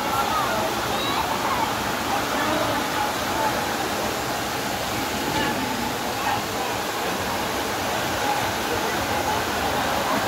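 Flowing river water rushes in a steady, broadband wash, with faint voices heard beneath it.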